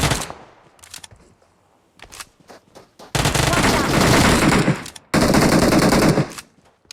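Video game shootout with a teammate laying down cover fire: scattered single shots, then two long, loud bursts of sustained automatic gunfire, close and relentless, separated by a brief pause.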